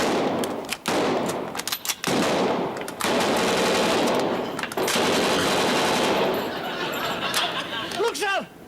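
A Lewis machine gun fires in long rattling bursts with short pauses, loud and close, while voices shout over the shooting.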